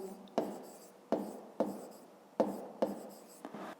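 Pen strokes on paper during a fifth-grade maths exercise, several short scratchy bursts in an uneven rhythm, close and soft, with no voice.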